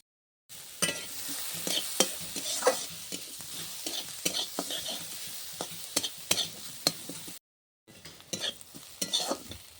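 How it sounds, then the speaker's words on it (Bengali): Finely chopped onions frying in butter, a crackling sizzle punctuated by repeated stirring scrapes and utensil taps, close and lively, with a short silent gap near the end. "পেঁয়াজটা হালকা করে ভেজে নিয়েছি"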